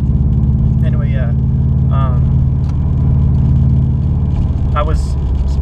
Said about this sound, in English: my windshield wiper is making the most disturbing sound ever